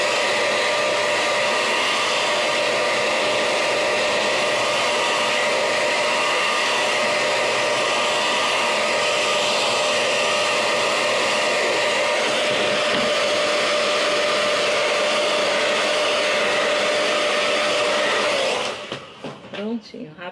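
A hair dryer blows steadily and loudly for about eighteen seconds, drying paint on a stencilled craft piece, then cuts off near the end.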